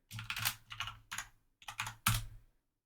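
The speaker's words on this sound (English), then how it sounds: "you can actually type things in, and look, I can erase them back out and then type them back in again" Clicks of typing on a computer keyboard, several quick bursts of keystrokes separated by short pauses, close and fairly quiet with no talking.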